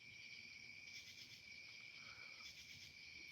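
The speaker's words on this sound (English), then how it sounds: "It's a lot of crickets and frog noises, or toads, I guess, and bugs like cicadas." Crickets trill continuously in a park at night, a faint, steady high chirping chorus with slight pulsing swells, distant and quiet with no other sounds.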